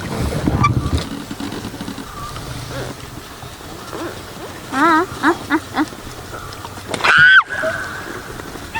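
A boat moves across open water with steady engine and wind noise, broken by a few short, high warbling calls near the end.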